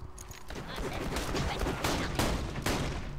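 Rapid bursts of Borderlands 2 gunfire on PS3, loud and close, with shots cracking in quick succession.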